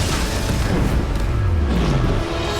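Bombarda spell blast in the video game Hogwarts Legacy: a dense, loud rumbling boom with a low sweeping tone through the middle, filling the whole short stretch without pause.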